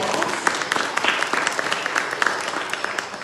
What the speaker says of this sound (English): also we should clap for that